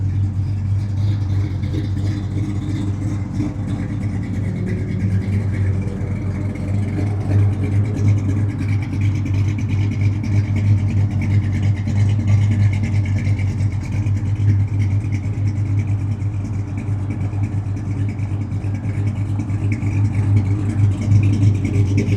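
A restored 1967 Plymouth Satellite 400 V8 idles steadily with a deep, rumbling exhaust note, constant and close, with no talking.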